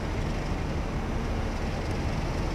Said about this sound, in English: Oh, I hear another train.